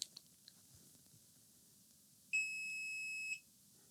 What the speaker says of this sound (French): La roue qui bip.